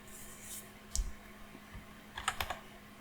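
A computer keyboard is typed on in a few short bursts of crisp key clicks, close and fairly quiet, with a faint hum underneath and no talking.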